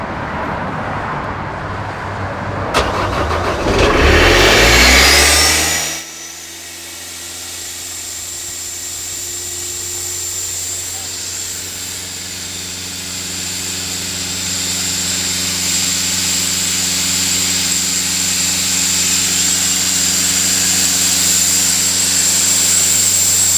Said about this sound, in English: Open, air spade's ready to go.